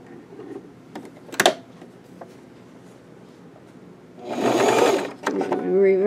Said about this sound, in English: I'm just going to run a stitch about 1/4 inch.